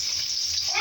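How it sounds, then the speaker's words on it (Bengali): Onions fry in a pan while chickpeas are cooked in tempering style, giving a brief, steady, close sizzle with no talking. "এবার পেঁয়াজটা ভাজবো।"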